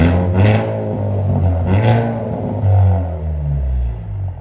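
A 2025 Hyundai Elantra N revs with its exhaust valves open, giving three loud, close throttle blips that rise and fall over a rumbling idle, with no talking.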